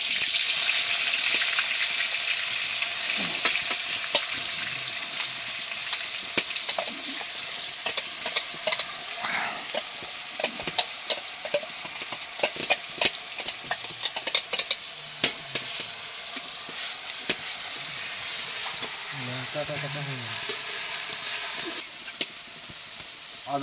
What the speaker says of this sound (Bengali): গরম তেলে এই পুরো পেঁয়াজটা দিয়ে দেবো আমরা।